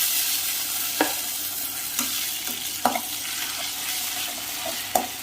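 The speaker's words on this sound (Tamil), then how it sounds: "ஆனியன் நல்லா செவக்க வதங்கட்டும்." Onion with ginger garlic paste sautéing in a pan for Chettinad chicken gravy, a steady low sizzle with occasional sharp spoon scrapes and taps against the pan at irregular intervals.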